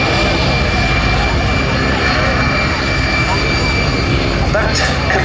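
A Harvard trainer aircraft's piston engine drones loud and steady throughout a flypast at the Duxford Battle of Britain airshow, a continuous broadband roar with a commentator's voice running over it.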